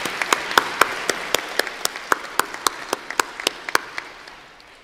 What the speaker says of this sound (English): please join me in a round of applause to thank our faculty and employees for their dedication and commitment to student success